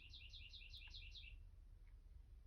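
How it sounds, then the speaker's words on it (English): A bird outdoors gives a quick run of six bright, repeated chirps in a steady rhythm, clear and fairly near. A low background rumble runs underneath, and afterward the bird falls quiet. "Birds are just out there chirping away today."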